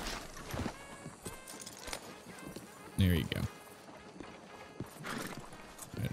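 A horse's hooves clip-clop in Red Dead Redemption 2 as it is led to a hitching spot in Saint Denis, with a few uneven steps and a heavier thud midway, and someone speaks briefly over them.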